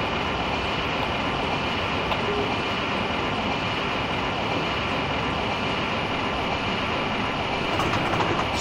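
Rumble of a DB train running along the Strasbourg–Karlsruhe line in Train Simulator as it coasts, a steady dense broadband roar with faint rail clatter throughout, close and continuous with no speech.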